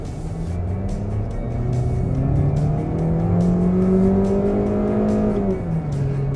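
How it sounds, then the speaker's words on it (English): A Toyota Corolla Cross engine revs up through an actual first gear, pitch climbing steadily, then drops into the CVT and settles into a smooth continuous drone as it keeps accelerating. "So what you heard was first gear, an actual gear, then it dropped into the CVT."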